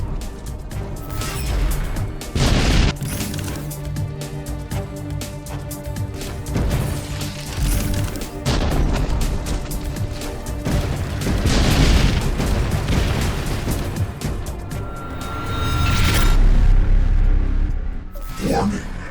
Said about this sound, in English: Watch out for enemy artillery attacks